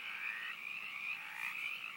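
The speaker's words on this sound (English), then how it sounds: "They're fucking loud." Frogs croaking loudly and continuously, a dense, steady chorus of close calls filling the whole stretch with no pauses and no voices over it.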